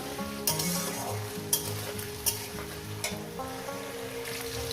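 Cut potato pieces frying in oil in a pan, a steady close sizzle with periodic scraping and stirring strokes and a few sharp clinks of a utensil against the pan.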